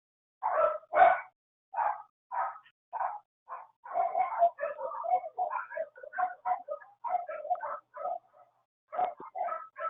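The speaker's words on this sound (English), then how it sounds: "Do you hear my dogs?" Several dogs bark at dinner time in a home office, a rapid run of sharp barks and yips in bursts over ten seconds, close and loud, with no talking.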